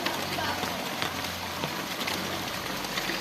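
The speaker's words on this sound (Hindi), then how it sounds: "बहुत ही तेज़ बारिश है, ये देखें ज़ोर ज़ोर की बारिश आ चुकी है" Heavy rain pours steadily in a wheat-growing area during harvest season, a dense continuous hiss of falling water throughout, close and loud.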